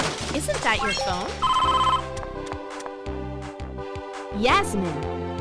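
A bright electronic phone ringtone plays in the V.Flash video game Bratz: The Secret Necklace, with repeated chirping tones and rising sweeps over steady background game music.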